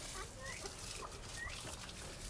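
Chickens clucking eagerly while being fed mealworms in their coop, with short chirpy calls scattered over a steady rustling background and no talking.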